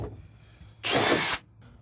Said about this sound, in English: Let's still drill a hole here.